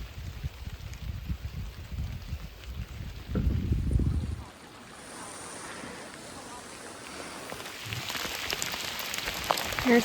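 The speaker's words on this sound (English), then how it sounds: "it's downright pouring" Heavy rain pours down at the portage between Freeland and Killarney lakes in Killarney Provincial Park during a fall canoe trip, a steady broadband hiss with a thicker low rumble partway through and no talking.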